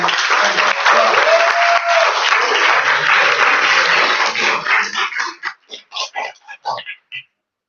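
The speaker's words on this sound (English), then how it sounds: "we get a round of applause" An audience applauds steadily, dense clapping that thins into a few scattered claps before stopping.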